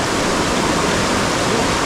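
Loud, steady rush of rain-swollen water pouring through a dam, a dense continuous roar with no pauses or voices.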